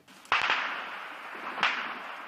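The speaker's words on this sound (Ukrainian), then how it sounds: "Це ПКМ, це почали, починається обстріл наших позицій." Sharp PKM machine gun fire cracks out, a quick cluster followed by another shot a second later, each trailing off in a long echoing reverberation across an industrial zone in Avdiivka.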